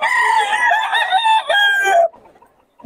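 A hen-feathered gamecock rooster crows loudly and close by at a market, one long strained cock-a-doodle-doo lasting about two seconds, then a brief quiet tail of faint background noise.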